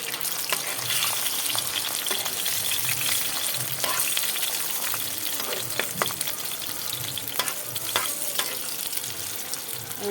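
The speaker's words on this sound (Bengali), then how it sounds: "দিয়ে হচ্ছে দুটো ডিম আমি ভাজতে বসিয়ে দিয়েছি" Two eggs sizzle and crackle steadily in a frying pan on a home stove, with a continuous hiss broken by occasional sharper pops and a few spatula scrapes, close and fairly loud, with no voices.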